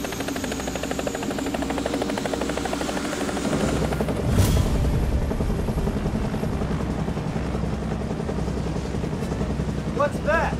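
A helicopter's rotor chops loudly and steadily, its engine roar building as it lifts off, with people shouting faintly underneath.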